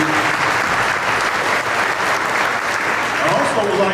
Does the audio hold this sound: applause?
yes